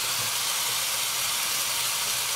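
Spaghetti sauce simmers in a pot, giving a steady, even hiss with no clear stirring strokes and no voices.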